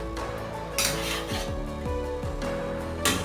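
A chicken and kohlrabi curry with ground garam masala is stirred in a pot, the utensil scraping and clinking against the metal in a few quick strokes over steady background music.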